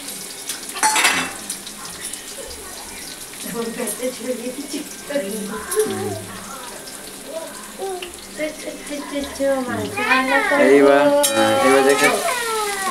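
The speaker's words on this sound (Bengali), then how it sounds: "এই যে পেঁয়াজটা তেলের উপর ছড়িয়ে দিচ্ছে" Onions and green chilies frying in hot oil while being stirred make a continuous sizzle with scraping and pan clatter. A voice talks over it throughout.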